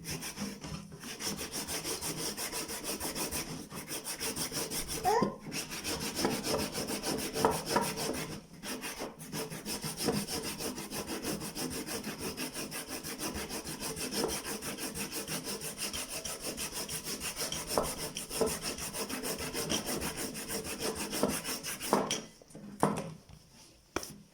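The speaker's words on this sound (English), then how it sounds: "I'm just going to quickly finish it off with a sanding tool, with my hand sanding tool" Continuous rhythmic rasping of a hand sanding tool rubbed against a shoe, close and steady with brief pauses.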